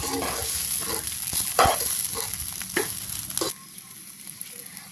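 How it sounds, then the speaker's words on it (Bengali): Raw rice is fried and stirred in a pan with broken green chilies while making biryani at a village home. A crackling sizzle runs under repeated scraping spoon strokes, then cuts off abruptly to a quieter hiss partway through. "আবারও ভালো করে নাড়াচাড়া করে নেব"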